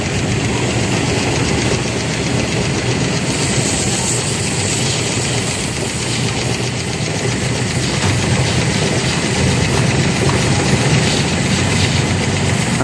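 An electric floor polisher drones loudly and steadily nearby, a continuous motorized hum and whir that never lets up.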